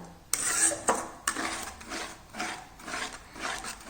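A soybean and leftover chapati mixture being stirred in a pan, with sharp scrapes of a utensil against the metal followed by softer rhythmic rubbing and mixing, close and fairly quiet.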